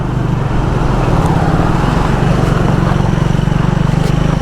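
A 2024 Triumph Speed 400 motorcycle on the move, its single-cylinder engine thrumming in a loud steady low drone with a fast pulsing beat and wind rush over it, close and continuous with no speech.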